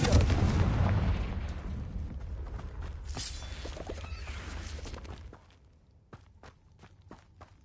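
A Confringo fire blast spell explodes in Hogwarts Legacy, a loud booming burst with crackling debris that swells, then fades over several seconds, followed by a few sharp clicks.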